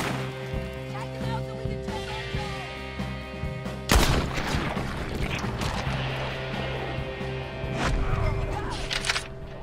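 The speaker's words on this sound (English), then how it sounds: "I'm gonna shoot you off that rock!" Gunfire in the video game Red Dead Redemption 2, a sharp shot near four seconds followed by scattered further reports over a steady bed of game music and ambience.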